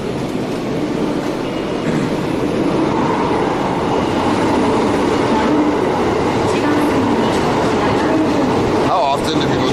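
A train rumbles steadily through a Japanese railway station with a constant roar, wheel noise and a brief squeal near the end, while people talk over it.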